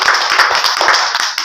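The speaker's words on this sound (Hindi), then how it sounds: "आइए आपका जोरदार ताली स्वागत किया जाए" An audience claps loudly and steadily to welcome a child contestant in a quiz game modeled on Kaun Banega Crorepati, a close, dense burst of hand claps that keeps an even level.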